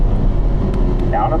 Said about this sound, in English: Working our way up to 4th gear.